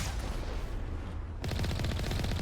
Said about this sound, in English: Machine gun will do the trick.